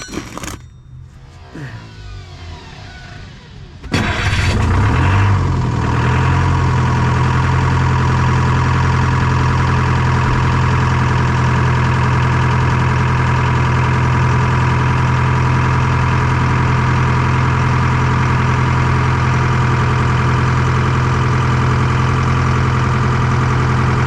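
A Detroit 4-53T diesel engine cranks briefly, then catches and settles into a loud, steady idle with a strong low hum and a whine on top, close by and continuous to the end.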